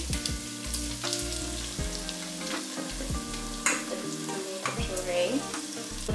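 Tomato puree fries with ginger in a pan, giving a close, continuous crackling sizzle with bursts of spitting and the scrape of stirring throughout.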